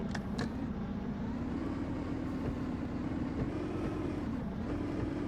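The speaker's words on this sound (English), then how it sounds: "Engine sound is not great." A rock crawler truck's engine drones steadily at low revs while it crawls over rocks, a continuous, close rumble with slight swells and no speech.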